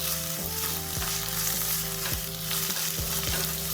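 Onions with garlic, ginger and chilli paste fry for rajma, a bright constant sizzle filling the pan, with a few soft stirring knocks and scrapes at a regular pace and steady background music underneath.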